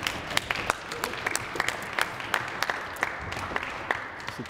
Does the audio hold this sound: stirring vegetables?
no